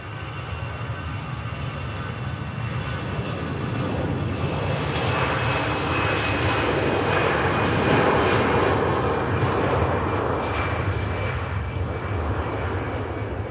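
A jet airliner's engines at Manchester Airport produce a steady, broad roar that swells slightly and then holds, a continuous rumble from a moderate distance, with no voices.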